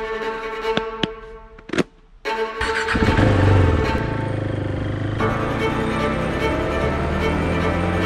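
A KTM 390 Duke motorcycle starts up after a few clicks and knocks, then its single-cylinder engine revs and settles into a steady, loud, close riding drone with a rising pitch.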